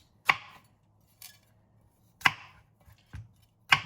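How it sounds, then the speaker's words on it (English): Broccoli cut at the base with a knife on a board, four sharp close chops at uneven intervals, the first, third and fourth strongest, with a faint low hum underneath. "the way I'm gonna cut this is with a knife at the base"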